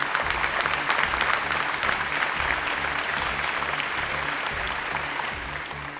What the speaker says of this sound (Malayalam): come on, let's give them a clap.